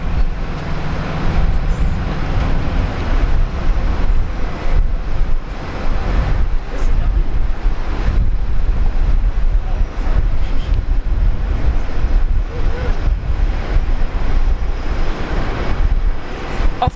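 A passenger jet takes off at Brisbane Airport, its engines roaring loud and sustained throughout the whole stretch, with no voices.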